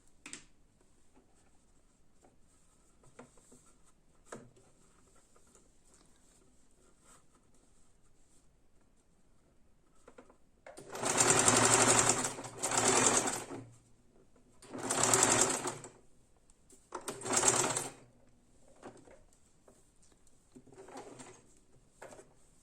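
Sewing machine stitching patchwork pieces for a complex Kazakh kurak quilt block, running in four distinct bursts of a few seconds each, with quiet pauses and light handling sounds between them.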